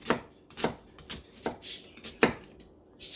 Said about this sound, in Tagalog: Ang sibuyas naman, ay gayatin nyo lang ng manipis.